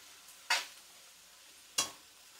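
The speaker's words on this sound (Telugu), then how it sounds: "ఇవి కొంచెం బాగా వేగనిద్దాం" Vegetables for fried rice hiss in a hot pan as two sharp bursts of sizzling flare up from a quiet background, each fading quickly after a stir.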